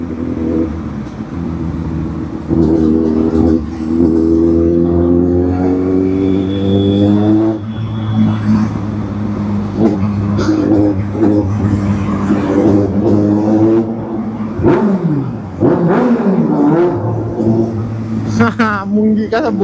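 Vehicle engine revving with a rising, buzzing whine like a bumblebee, loud and steady throughout, rising and falling in pitch, while people talk over it.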